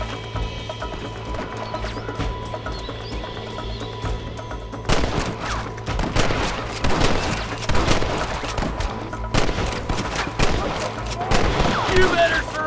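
Gunfire during a cattle-rustler shootout in Red Dead Redemption: rapid volleys of sharp rifle and pistol shots that begin abruptly partway through and continue in clustered bursts, with faint hoofbeats underneath.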